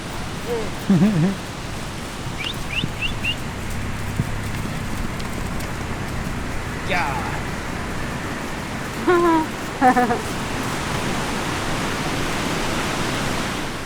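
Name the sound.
rain falling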